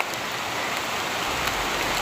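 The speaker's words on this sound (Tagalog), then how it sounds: "Oh, sobrang lakas na ng ulan dito." Heavy rain pours down in a steady, dense wash that holds at one level from start to finish, with no voices over it.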